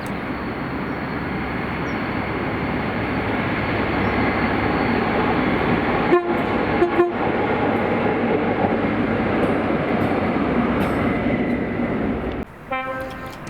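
A Colas Rail freight train rolls past at Cameron Bridge beside the distillery, a loud steady rumble of wagons lasting throughout, with sharp wheel clanks near the middle and end.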